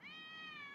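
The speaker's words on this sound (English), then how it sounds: "Get off there, cat!" A cat's sustained meow, tonal and clear, close and fairly loud, alone without talk for under a second.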